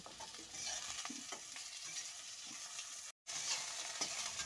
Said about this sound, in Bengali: তারপর আগে থেকে যে লেবুটাকে রেডি করে রেখেছিলাম খোসা ছাড়িয়ে সেটাকে আমি দিয়ে দিলাম, দিয়ে মিনিট 2-3 মতন ভেজে নেব